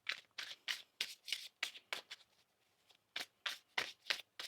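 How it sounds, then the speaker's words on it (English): A tarot deck is shuffled in quick, rustling riffle bursts, close and fairly quiet, with a brief lull midway before the shuffling resumes. "One more shuffle here."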